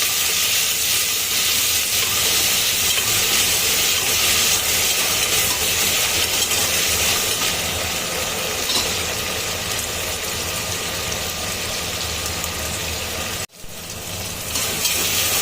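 Onions and tomato sizzle in a hot pan in a home kitchen, a continuous loud hiss running steadily before a brief drop near the end, then carrying on.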